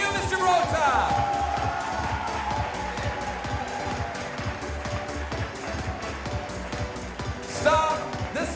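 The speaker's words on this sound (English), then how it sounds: "Keep that applause going for our new Miss Gibraltar." Audience at the Miss Gibraltar 2018 pageant applauding with scattered cheers and whoops, steady clapping running beneath an announcer's amplified voice, swelling again near the end.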